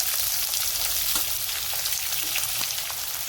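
Onion dropped into hot oil with cumin, a bay leaf and curry leaves, giving a loud, continuous hiss of sizzling with occasional small pops.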